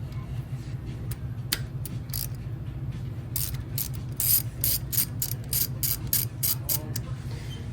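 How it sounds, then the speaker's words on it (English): Tightening work on the fork pinch bolt of an Indian Scout Bobber motorcycle produces quick, close ratcheting clicks in the second half, over a low steady hum. "Loosen the pinch bolt now."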